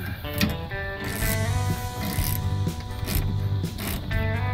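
A hand ratchet with a 19mm socket turning a swivel hub bolt on a Toyota Landcruiser 80 Series, giving close, repeated clicking bursts with brief pauses between strokes.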